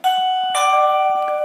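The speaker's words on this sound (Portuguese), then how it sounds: "Toquei a campainha." A low-cost Tuya smart doorbell chimes twice, with clear, sustained electronic bell tones ringing close up and loud.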